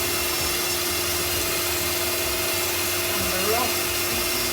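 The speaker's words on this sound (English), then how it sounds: "Put the dust extraction on for the sanding. A little bit of power sanding first." Power sander works over a turned wooden bowl while dust extraction runs, a steady loud broadband whir filling the whole stretch, with a brief spoken phrase over it.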